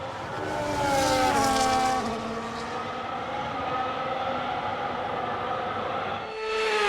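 Formula 1 cars on a formation lap at the Italian Grand Prix in the F1 25 racing game, engines whining and shifting through rising pitches, passing loud then settling into a steady droning roar, with no talk.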